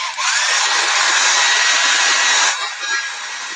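A hair dryer blows on chalk marker lettering on a white framed board, a loud, steady, close airy whir for about two and a half seconds that then dips slightly and continues.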